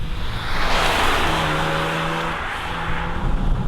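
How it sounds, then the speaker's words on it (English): A BMW Z3M Coupe engine with a metallic rasp, heard from a moving car as a steady loud drone with a held tone that rises slightly mid-clip over tire and road roar. "it has that familiar metallic rasp you got from the M3s of the time"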